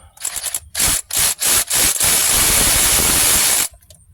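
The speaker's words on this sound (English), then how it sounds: "we'll just get started on pulling these bolts out" Timing cover bolts come off a 2004-07 Cadillac DTS engine, loud bursts of a power ratchet whirring in short repeated pulses, then one long continuous run before stopping.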